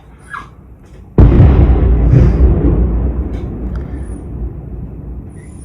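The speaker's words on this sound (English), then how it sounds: "There are so many ballistic missiles tonight." Ballistic missile explosion at night in Kyiv, one sudden heavy boom followed by a long rolling rumble that slowly fades.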